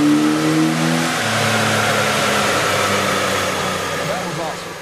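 A Jeep engine with Superchips Trail Jammer tuning revving hard on a dyno, a loud close roar holding high then dropping and winding down, with a voice speaking over it.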